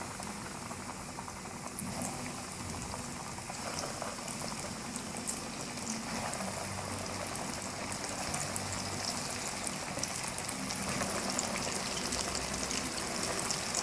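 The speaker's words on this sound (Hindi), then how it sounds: "बाकी जो चिकन पीसेस बच गए उनको भी सेम उसी तरह फ्राई करेंगे।" Chicken pieces for homemade broast deep fry in hot oil, giving a steady, dense crackle and bubbling sizzle that holds evenly throughout at moderate loudness, with no voices over it.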